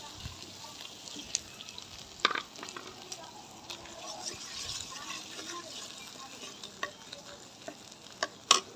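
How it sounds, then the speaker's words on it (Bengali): Ground shrimp paste goes into a frying pan with taro greens, a soft, low sizzle and wet stirring close by, broken by a few sharp clinks of a spoon against the pan. "তো এখন এইখানে আমি চিংড়ি মাছ বাটাগুলিও দিয়ে দিব একই সাথে"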